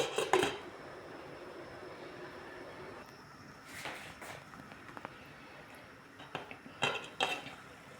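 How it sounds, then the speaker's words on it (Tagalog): A lid goes onto a pot of fish soup with a few light metallic clinks and clatters, scattered and fairly faint over a quiet kitchen background. "Yung istakpan ko na guys para maluto na."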